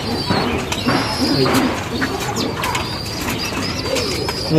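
Pigeons coo softly and repeatedly at close range, with chirps, a brief flutter of wings and a busy background.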